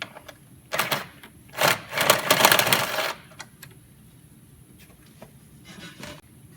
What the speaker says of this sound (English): let's go ahead and remove this 10mm nut and these 2 10mm studs